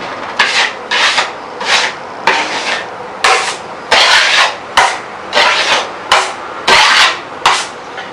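Rhythmic raspy scraping strokes, about a dozen in a row, each a short rough swipe of a knife wiping joint compound across a wall, close and fairly loud.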